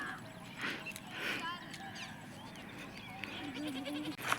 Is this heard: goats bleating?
yes